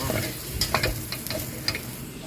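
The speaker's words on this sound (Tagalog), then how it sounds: "doon na din natin igisa yung ating bawang at sibuyas" Garlic and onion sizzle and are stirred in a hot pan while cooking pork adobo, a steady close frying hiss broken by a few scraping stirs.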